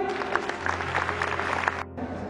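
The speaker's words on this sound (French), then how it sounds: "on peut les applaudir?" Applause from a small group at an indoor velodrome during a track cycling session, a steady patter of clapping with a low hum beneath it that breaks off briefly near the end.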